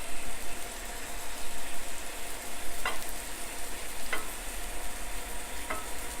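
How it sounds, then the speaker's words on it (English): Shrimp fry in a hot pan with a steady, close sizzle and a few soft scraping stirs over a low background hum. No one speaks. "Shrimp, a lot of people underestimate how quickly shrimp cooks, but within 5 minutes it's done."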